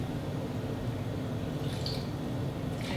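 Trader Joe's cold brew coffee concentrate splashes in two short pours, faint and close, over a steady low background hum in a home kitchen.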